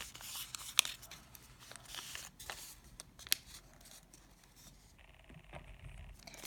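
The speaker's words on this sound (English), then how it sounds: "Now let's fold in half." Paper crinkles and rustles softly at close range as a sheet is folded in half for origami, with faint creasing scrapes and small taps, quiet and without talking.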